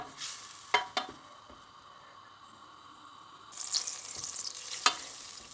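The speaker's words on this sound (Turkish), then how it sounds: "Şimdi tereyağımızı eritelim." Butter melts in a pan with a faint sizzle hissing softly, with a few sharp clicks and clinks of a utensil, quiet and close, no voices.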